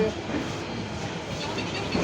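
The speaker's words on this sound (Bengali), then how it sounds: "আমাদের ধূমকেতু এক্সপ্রেস ট্রেন ছেড়ে যাচ্ছে" The Dhumketu Express, running from Sirajganj toward Ishwardi, pulls out with a steady, close rolling rumble of carriages on the rails, and faint voices sit beneath the noise.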